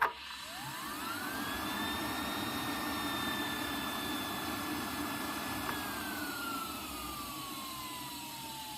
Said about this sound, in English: This is how slightly worn bearings sound like.